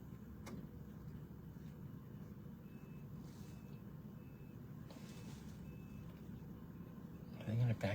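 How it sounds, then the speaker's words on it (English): Fire trucks backing up, their reversing beeps repeating steadily at a distance over a low engine rumble, with a louder thump near the end. "if they're gonna back the fire trucks up"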